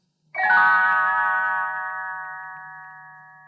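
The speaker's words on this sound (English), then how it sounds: "You will know it is time to turn the page when Tinker Bell rings her little bells like this." A bright chime of small bells rings out with one sharp strike, then a clear layered tone that slowly fades, alone without any voices.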